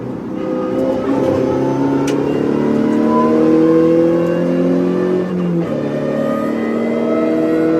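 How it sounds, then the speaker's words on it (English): A car pulls hard out of a corner on the Winton race circuit, its engine note climbing steadily through the revs for several seconds, with a quick shift and renewed rise near the end, loud and close, with no talk. "accelerating, going to 50, going on the crest here as well"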